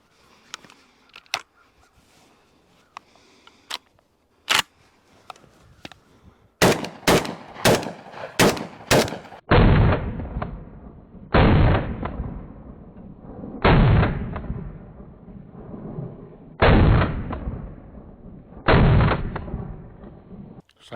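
Saiga 12 magazine-fed shotgun firing Black Aces GT9 ammunition: several loud, sharp shots with booming echoes, a few scattered at first, then a rapid string of five, followed by four or five spaced, heavier blasts, no talking.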